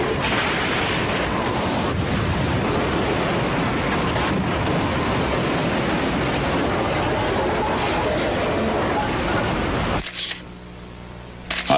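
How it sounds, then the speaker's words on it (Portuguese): Tornado winds strike the Reata restaurant atop the Bank One tower in Fort Worth, captured by security cameras: a loud, continuous roaring rush of wind that persists for about ten seconds before cutting off abruptly. "as câmeras de segurança do restaurante Riata registraram o momento em que o tornado o atingiu."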